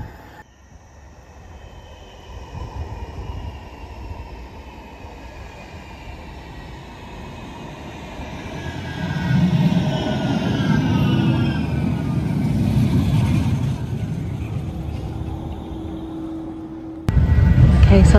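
A tram, the Trafford line service at Cornbrook stop, pulls in and runs past: a rising rumble with squealing wheel tones builds over many seconds, loud and near, with a clunk near the end.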